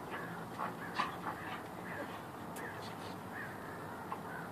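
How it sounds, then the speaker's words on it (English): Crows cawing while mobbing a hawk outdoors, several scattered distant calls over steady background noise, faint and irregular. "that the crows are all upset"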